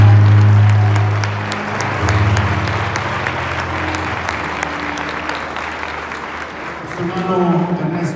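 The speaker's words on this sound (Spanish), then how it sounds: "Recibámoslo con un fuerte aplauso" Strong applause from an audience welcoming a guest, Dr. Ernesto Jiménez Mendoza, at a church prayer gathering; dense, steady clapping fills the room for several seconds over a low hum, dipping briefly before swelling again.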